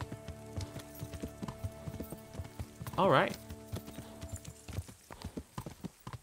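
Horses clip-clopping in Kingdom Come: Deliverance, a steady run of hoof clops with a brief whinny partway through, set against game music and a voice talking.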